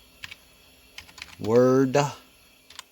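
Someone types a password on a computer keyboard while configuring an Aruba S2500 network switch, producing scattered light key clicks, with a short spoken phrase in the middle.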